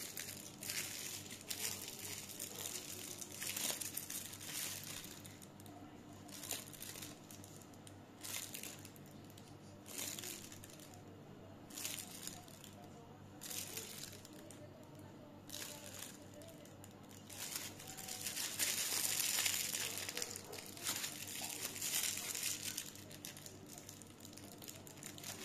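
Plastic piping bags for meringue decorations being handled, fitted one inside another and crinkled, giving a steady, fairly close rustle and crackle that swells and fades for the whole stretch.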